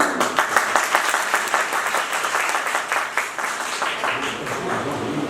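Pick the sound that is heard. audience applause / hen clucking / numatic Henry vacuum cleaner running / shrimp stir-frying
audience applause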